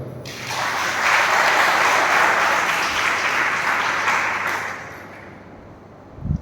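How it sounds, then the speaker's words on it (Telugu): A congregation at a Friday fasting prayer service bursts into loud, sustained clapping that swells quickly, holds steady for several seconds, then fades out near the end. "చప్పట్లు కొట్టు"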